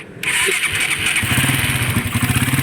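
A motorcycle engine with a modified, silencer-removed exhaust starts up and idles loudly nearby, its exhaust popping in a quick, uneven throb.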